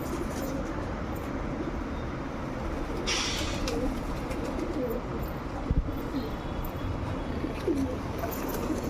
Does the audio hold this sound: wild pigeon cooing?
yes